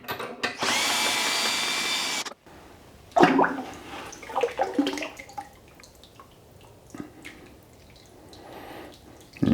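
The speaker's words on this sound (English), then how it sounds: "now I need to take this and dump it back in the bucket" Liquid clay slip pours out of a mold back into a bucket in a loud, steady rushing gush for about two seconds, followed by scattered splashes, drips and handling knocks.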